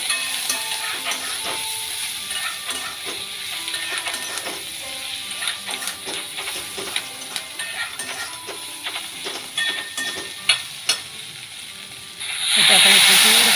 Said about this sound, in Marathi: आणि तळलेली कारली त्याच्यामध्ये मिक्स करूया।